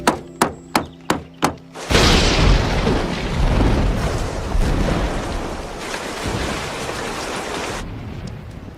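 Heavy rain pours steadily and close after a few sharp, evenly spaced knocks, a wild west night storm drumming loudly for several seconds before it cuts off.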